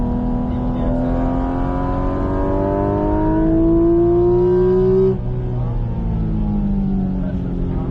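Race car on the Bresse circuit revving up through climbing gear harmonics, a steady close engine roar that drops and resets around the midpoint before rising again, with a voice talking over it.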